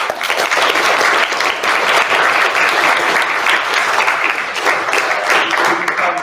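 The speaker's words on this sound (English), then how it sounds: "can we have a round of applause for that question?" A society audience applauding a question after a talk by Carwyn Jones, sustained loud clapping from a roomful of people, dense and continuous for the whole stretch, with faint murmuring underneath.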